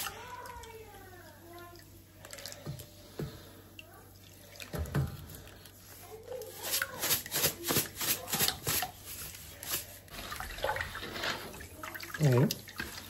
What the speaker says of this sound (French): Je vais mettre tout dans l'eau.